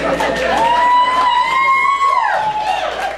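A stand-up comedy crowd cheers and whoops, with a long whistle-like yell over steady crowd noise.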